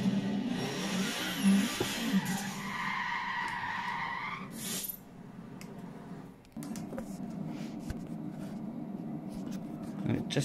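A car's tyres skid during a handbrake turn, a loud screech over the engine revving, followed by the engine settling back to a steady drone.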